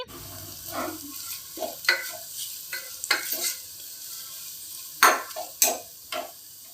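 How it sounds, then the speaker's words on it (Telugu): Turmeric being stirred and fried in hot oil with whole spices in a pan, a steady soft sizzle under repeated scraping strokes of a spoon against the pan, close and clear. "ఇవన్నీ కూడా ఆయిల్లో వేగిన తర్వాత 2 స్పూన్ల పసుపు కూడా కొద్దిసేపు వేయించి"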